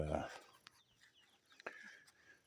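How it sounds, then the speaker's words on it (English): Faint chickens and their chicks cluck softly in the distance on an off-grid homestead, with a brief voice at the start and scattered small sounds around them. "we got all the chickens and the babies."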